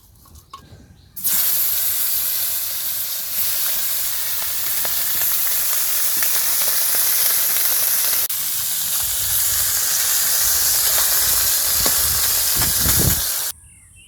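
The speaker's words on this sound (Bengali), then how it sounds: "আমি এই টাকি মাছটাকে আগে ভেজে নেব তেলে একটু হলুদ গুঁড়ো একটু লবণ মেখে" Taki fish coated with turmeric and salt frying in hot oil, a loud, steady broadband sizzle that holds close and continuous from about a second in almost to the end, with no talk over it.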